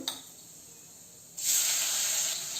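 Cumin seeds drop into hot oil with a faint crackle, then a sudden loud sizzling hiss swells up and holds steadily to the end.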